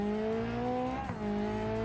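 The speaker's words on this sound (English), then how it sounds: "This is my high revving inline 4, by the way." A high-revving inline-4 race-tuned car engine in a racing video game drones steadily at high pitch, with a brief dip and recovery midway as if shifting or lifting off, loud and continuous throughout.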